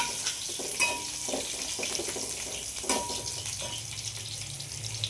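Cashews, curry leaves and carrots frying in oil in a pan for mint rice, a steady close sizzle with a few louder crackling bursts, no talk.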